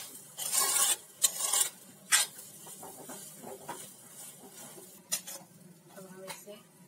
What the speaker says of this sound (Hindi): स्वाद अनुसार नमक इसे बराबर चला के मिलाएंगे।